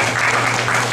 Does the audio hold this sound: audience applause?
yes